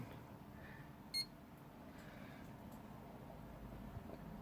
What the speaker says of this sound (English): Once you hear the beep and the display comes on, that's when you know it's on